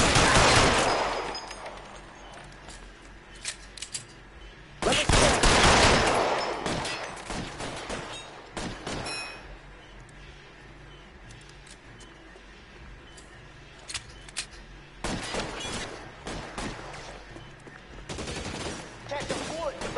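Bursts of gunfire from a shootout in the video game L.A. Noire, clustered volleys near the start, middle and end, separated by quieter stretches of scattered shots and game ambience.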